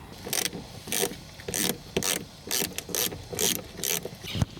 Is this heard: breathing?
no